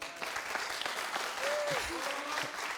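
Applause from a studio audience on a French-language TV entertainment show: steady, close clapping fills the whole stretch while a voice talks over it.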